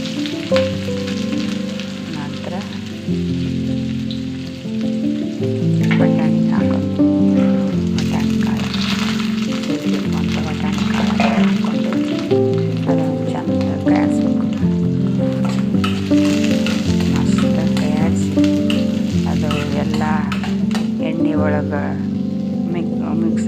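Mustard seeds and onions frying in a hot pan give a steady, close sizzle with faint crackles, running under a voice explaining the cooking throughout.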